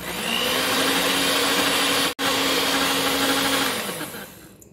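Electric mixer beating chocolate cake batter, a loud steady motor whine running continuously with one brief cut midway, then trailing off at the end; no talking.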